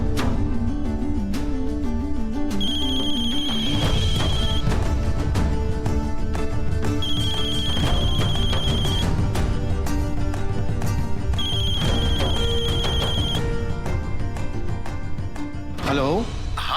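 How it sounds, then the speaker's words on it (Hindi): A phone rings repeatedly and goes unanswered, a melodic ringtone with regular electronic tones over a music bed, with talk running through it, in a Hindi TV drama. "सृष्टि जी हमारा फोन काहे नहीं उठा रहे हैं?"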